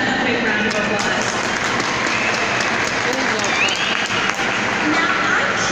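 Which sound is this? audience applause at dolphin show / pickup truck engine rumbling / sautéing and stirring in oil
audience applause at dolphin show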